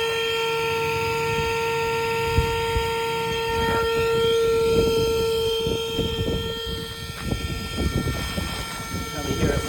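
A TOPUMP TPS300 inflatable pump running with a steady high whine and a constant motor drone, close and fairly loud, with some clattering in the background.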